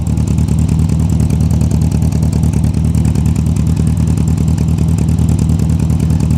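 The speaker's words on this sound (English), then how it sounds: "As you can hear, it has new exhaust on it." A small Sprite sports car engine with a new exhaust idles with a loud, raspy exhaust burble, steady and close, with a fast rhythmic putter and no voices.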